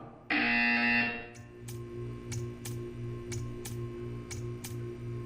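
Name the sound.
buzzer in a video game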